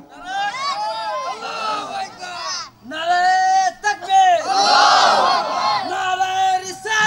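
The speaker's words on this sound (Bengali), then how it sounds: "একটা তাকবীর লাগান" A large crowd at an Islamic religious sermon shouts the takbir, "Allahu Akbar", in loud, rhythmic call-and-response waves of massed chanting voices, swelling and overlapping close by.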